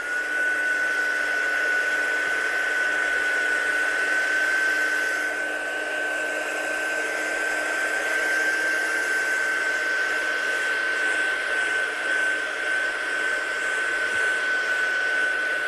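A heat gun blows steadily to dry paint, a continuous close whooshing drone with a thin high whine that holds for the whole stretch without pause or talk.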